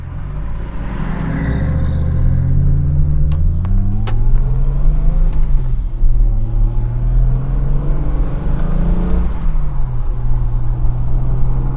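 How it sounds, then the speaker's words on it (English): Triumph 2.5 PI saloon with manual gearbox accelerating hard along a New Zealand road, engine note heard from inside, rising through the revs, dipping at gear changes, then pulling up again, loud and continuous. "So straight away this sounds much more purposeful. It makes a very gnarly noise"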